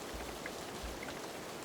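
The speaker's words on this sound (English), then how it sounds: "The rain doesn't fall like water, it falls like knives." Steady, faint rain hisses evenly on a surface in cold weather, with a couple of soft low thumps underneath and no voices.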